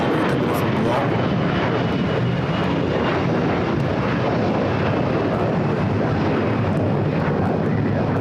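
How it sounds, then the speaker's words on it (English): Airbus A350-900 airliner arriving at Los Angeles International Airport from Rome, a loud steady jet roar filling the whole stretch without a break, close and continuous. "A350-900 coming from Rome."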